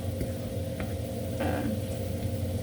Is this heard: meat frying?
yes